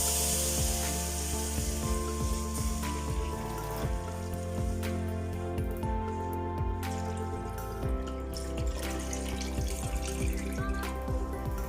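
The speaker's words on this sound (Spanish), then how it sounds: "Vamos a agregar aquí mismo 2 litros de agua, porque aquí vamos a cocer las habas." Water pours steadily into a cooking pot, about two litres for a fava bean and bacon soup, a continuous close splashing stream with some kitchen clatter and no talking.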